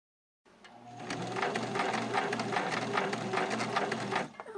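Singer Simple sewing machine stitching slowly over a button, its needle mechanism chattering in a steady rapid rhythm that starts after a brief silence and runs close and continuous to the end.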